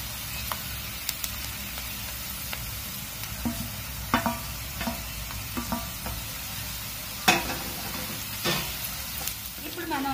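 Curry leaves and green chillies sizzle steadily in hot oil for a coconut dry prawn curry, a dense crackling fry with occasional stirring clicks and pops, with faint speech.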